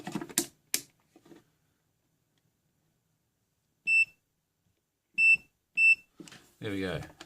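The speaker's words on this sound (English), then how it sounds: "There we go, continuity tester." Multimeter continuity tester beeping on an Arduino MIDI pedal board circuit: three short, sharp electronic beeps spaced apart in near silence, with brief handling noises and a voice speaking at the start and end.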